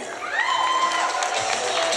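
An audience at a teachers' summit stage event claps and cheers loudly and steadily, with high whoops and shouts rising over dense, continuous applause.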